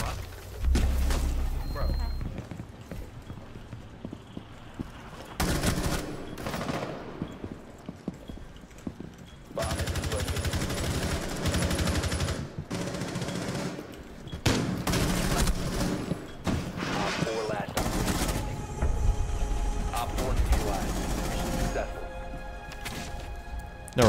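Gunfire in the shooter game Rainbow Six Siege, with sharp bursts of shots and crashes coming in clusters throughout, mixed with other game sounds while a person talks over much of it.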